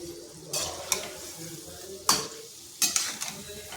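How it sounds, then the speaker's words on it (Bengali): Palm fruit fritters deep-frying in hot oil, a steady soft sizzle broken by a few sharp scraping stirs and clinks, close and moderately quiet. "এইভাবে লাল লাল করে ভেজে নিয়েছি"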